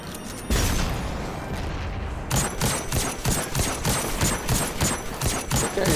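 Sustained video game gunfire: a dense loud burst at the start, then a rapid rhythmic run of repeated shots keeping a steady pace to the end.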